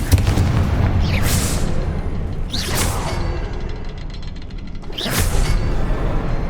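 In the Hogwarts Legacy game, Confringo fire spells go off as three heavy booming explosions about two seconds apart, each with a whooshing rush over a constant low rumble.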